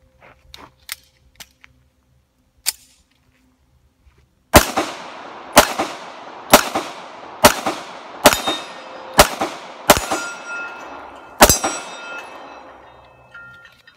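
A Kimber Stainless Raptor 2 1911 pistol firing Federal aluminum-cased ammo at a range: a few light clicks, then eight loud sharp shots spaced about a second apart, each ringing briefly.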